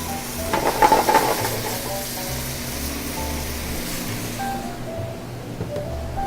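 Soy sauce and chopped ginger sizzle hard in a hot pan as a sauce starts to thicken, a loud steady frying hiss with brief stirring clatter early on, settling into a calmer bubbling.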